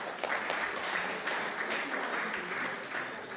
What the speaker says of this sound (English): So I want a round of applause for them.